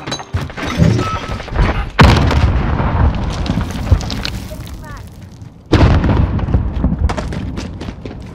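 Sharp booms from a flashbang grenade and surrounding combat in Modern Warfare 2019, two heavy bangs standing out with rattling gunfire and game voice callouts between them.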